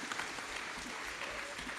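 A conference audience gives the panelists sustained, fairly faint applause, with continuous clapping from a crowd heard at a distance in a large hall.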